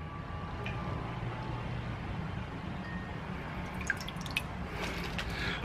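Water rinses over Yeezy 350 Zebra sneakers after a green-water dip, a steady splashing hiss with a few dripping taps close by and no talking.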